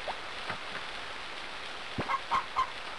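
Chickens clucking in the farming game Harvest Moon: Friends of Mineral Town, a few short, quiet clucks bunched near the end over a faint steady background.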